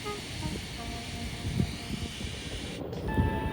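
A steam train hauling empty cattle trucks rolls steadily along, giving a continuous hiss and rumble with a few soft thumps from the wagons under a steady background.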